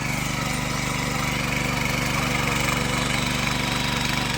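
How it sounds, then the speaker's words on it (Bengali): A soil crushing machine runs steadily in the sun, pulverising soil for mounding around rose plants, its engine giving a continuous, even mechanical drone with a rapid low pulsing throughout, close and alone without talk. "মেশিন স্টার্ট দিল, মেশিন দিয়ে এখন মাটিগুলো গুঁড়ো করা হবে"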